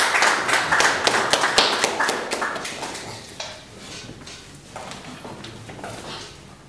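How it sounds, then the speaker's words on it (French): Audience applause at an anniversary tribute gathering, a loud burst of clapping at the start that gradually thins and fades to a softer, scattered patter over about seven seconds. "On applaudit très fort."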